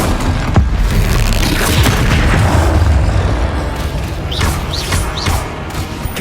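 Fiery spell blasts and booms from the Incendio fire charm in Hogwarts Legacy, a dense, loud rumble of bursts and crackling with whooshing magic sweeps near the end, no talk.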